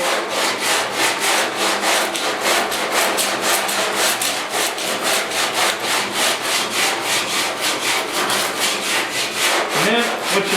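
Car body filler being hand-sanded on a 1956 Mercury cab corner, a loud, steady rhythmic rasping of back-and-forth strokes, close up and continuous with no talking.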